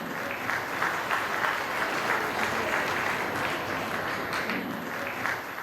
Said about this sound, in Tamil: பெரிய கைத்தட்டல் கொடுத்துடலாம் இந்த சிங்க பெண்மணிக்காக.